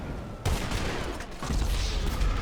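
Gunfire from a sniper rifle in Grand Theft Auto V free mode: two sharp bursts of shots crack out about a second apart, loud and close, with no voices over them.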